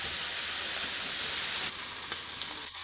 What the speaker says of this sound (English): And look how nicely the eggplants are frying.